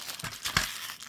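A sticker being peeled slowly off a paper envelope, a close, continuous crinkling and tearing rasp lasting about a second, with no talk.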